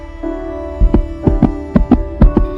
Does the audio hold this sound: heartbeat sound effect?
yes